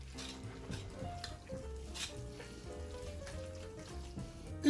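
Spaghetti carbonara topped with 24-month Comté being stirred in a hot pan, with steady sizzling and frying throughout and soft scrapes and clinks of the utensil against the pan, ending in one louder knock.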